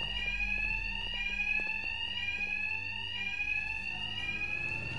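Fire alarm ringing continuously inside a bank in Gotham during the Batman Arkham Knight video game, a loud steady electronic tone with repeating pulses and no voices over it.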